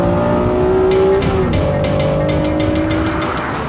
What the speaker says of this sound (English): a mid-mounted engine for optimum balance, and oh, what an engine!